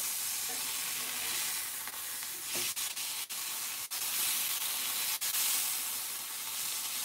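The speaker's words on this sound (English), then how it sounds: "I just like to move the steak around the grill pan and just like get the sides even to have a little char" A steak sizzles steadily on a grill pan, a continuous loud frying hiss with brief dips as the meat is moved and turned for an even char.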